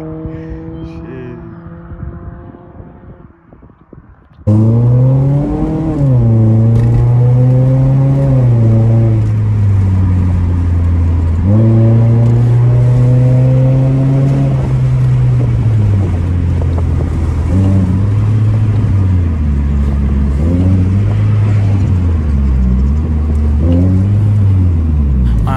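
A 2011 Scion tC with its exhaust resonator deleted revs repeatedly, a loud, close, raspy engine note rising and falling through several throttle blips after a quieter start.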